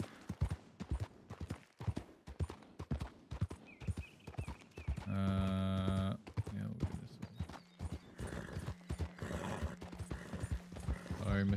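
Steady clip-clop of a horse's hooves at an even walking rhythm in Red Dead Redemption 2, with a brief whinny partway through and a player talking over the footsteps.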